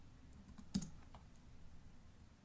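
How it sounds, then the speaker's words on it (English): Quiet keyboard typing at a computer, a short burst of soft keystroke clicks with one sharper tap, then faint scattered presses against a low background hum. "typing in the file name"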